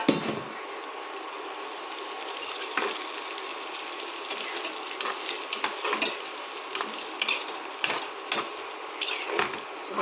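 Chicken pieces sizzle steadily in a frying pan as a spoon stirs them, with scraping clinks and bursts of spatter rising over a constant hiss; no one speaks.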